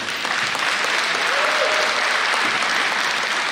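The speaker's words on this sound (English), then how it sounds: "Y'all give them a round of applause." A crowd at a school Decision Day event claps in a loud, dense round of applause, with faint cheering mixed into the steady clapping.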